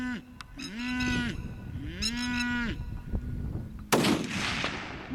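A single sharp gunshot cracks out while shooting a peacock outdoors, a loud broadband blast near the end, preceded by a peacock's loud wailing calls.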